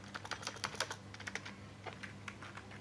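Someone types on a new computer keyboard with quiet, moderately clicky keystrokes in a steady irregular patter, close and faint, with no talking.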